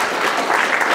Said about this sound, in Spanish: hay que brindarle pues fuertes aplausos a nuestro regidor Julio Santos